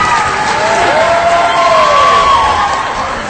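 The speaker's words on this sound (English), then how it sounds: "Applause." A studio audience at a live show applauds and cheers in a dense, steady wash of clapping and crowd noise, with some shouts rising over it.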